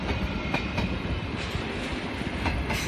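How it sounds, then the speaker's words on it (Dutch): Trains roll through Eindhoven Centraal station with a loud, close rumble and rhythmic rattling of wheels over the rails, steady throughout with no talk. "Wie joh, twee treinen in één, man!"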